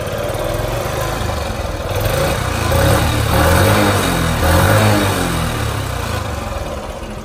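A Yamaha TownMate 50cc four-stroke motorbike engine putters at idle, then revs up twice with rising buzzy pitch before settling back, close and loud.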